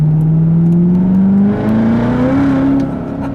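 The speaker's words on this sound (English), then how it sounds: "I just went half throttle and immediately just wants to get squirrely on me" A 2019 Chevrolet Corvette ZR1 with a manual gearbox revs at half throttle, a loud, close engine note climbing steadily in pitch over a few seconds, with a brief dip midway before it rises again.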